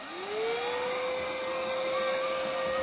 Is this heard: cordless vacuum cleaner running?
yes